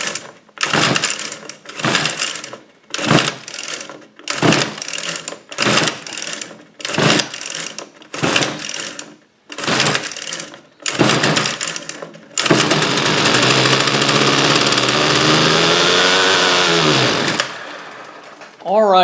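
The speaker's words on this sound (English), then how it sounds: "it finally did fire and run briefly" Husqvarna string trimmer, worn and weathered, pulled repeatedly in a rhythmic series of short cord-pull bursts, then its small two-stroke engine fires and runs loudly for about five seconds before sputtering down, close up.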